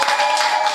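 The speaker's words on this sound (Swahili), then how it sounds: "Mpigie Yesu makofi." A congregation at a Christian gathering clapping for Jesus, a brief dense burst of many hands clapping together, loud and close.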